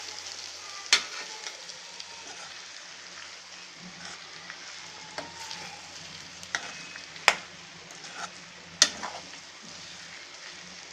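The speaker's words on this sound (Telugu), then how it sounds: "ఇప్పుడు మనం ఉడికించుకున్న రొయ్యలు వేసుకుందాం." Cooked prawns sizzling with onions and turmeric in a pan, a quiet steady frying hiss broken by occasional sharp clinks and scrapes of stirring, with no voices.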